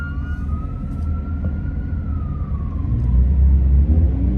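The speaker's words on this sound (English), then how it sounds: "I got an ambulance behind me." A video game ambulance siren drifts and wails over a loud, low engine rumble, staying fairly steady and mid-distance, with no talking.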